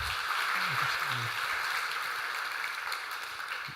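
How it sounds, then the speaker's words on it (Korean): Steady applause from a gathered church congregation during a Sunday service, a dense wash of clapping that holds evenly throughout, with a few faint voices low underneath. "그래도 인사하실 때 우리 격려의 박수."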